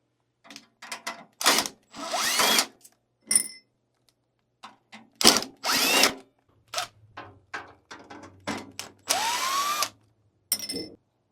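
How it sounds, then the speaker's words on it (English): A power drill whirs in short repeated bursts with quiet pauses between them, close by and fairly loud, removing panel screws from a Lelit Bianca espresso machine. "I'm just going to use my power drill here."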